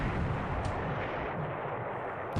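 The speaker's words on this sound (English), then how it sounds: "Quite the gunfire exchange here." Naval gunfire and artillery in the wargame War in the Pacific: Admiral's Edition, heard as a steady, dense, booming rumble of continuous fire with no clear gaps between shots.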